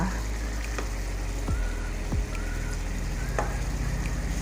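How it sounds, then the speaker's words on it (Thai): Canned fish frying in a pan gives a loud, steady sizzle that holds throughout, broken by a few clanks and scrapes from stirring. "เดี๋ยวเราให้ปลากระป๋องของเราโดนความร้อนนิดนึงแล้ว"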